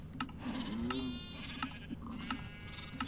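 A Minecraft sheep bleats once, fairly close, amid a run of short, sharp clicking game sounds repeating at steady intervals, with no talk over it.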